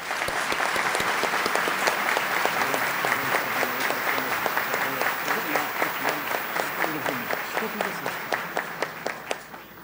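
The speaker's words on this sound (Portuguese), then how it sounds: "o desembargador José Jacinto Costa Carvalho, a quem peço uma salva de palmas" Applause from an audience at a court inauguration ceremony: dense, sustained clapping at fairly close range that thins into a few scattered, distinct claps toward the end.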